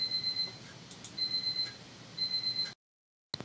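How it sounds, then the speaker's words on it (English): A phone alarm goes off in a quiet room with three repeated bursts of rapid high beeps at a regular rhythm, then it cuts to silence and one last faint beep follows. "the alarm went off on my phone"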